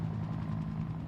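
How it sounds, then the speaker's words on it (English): Helicopter in Project Zomboid, a steady low rotor drone with a dense thudding rumble that holds constant over a short stretch, with no talking. "Helicopter, really? This isn't the time for your bullshit."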